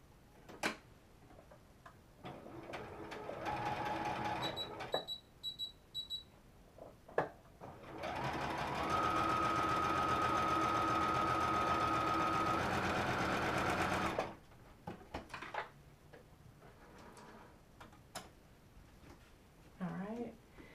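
A sewing machine stitching a dart on a dress. Short stop-start bursts of rapid stitching are followed by one long, steady run of whirring needle strokes, with a voice talking in the quieter stretches before and after.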